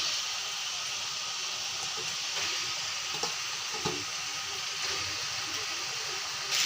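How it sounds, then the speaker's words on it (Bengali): Meat added to half-fried spices and tomato in a pan, sizzling: a steady, dense frying hiss that carries evenly throughout, close by, with small bumps of stirring and no pauses. "মশলাগুলো আধা ভাজা হয়ে গেছে, এখন মাংসগুলো দিয়ে দেব"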